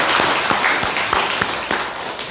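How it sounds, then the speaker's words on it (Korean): Loud, close applause from a temple congregation at a Buddhist Ipchun service, with a few distinct heavier claps standing out from the steady wash of hands. "감사한 여러분들께 제가 큰 박수 한번 보내겠습니다."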